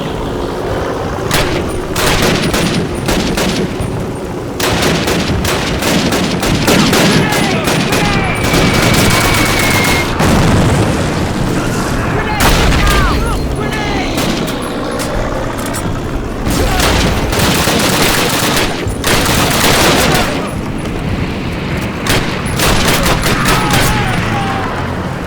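Dense, relentless gunfire and explosions in Call of Duty 7 (Black Ops) fill the whole stretch, overlapping rifle bursts and booms with faint shouted voices under the battle din.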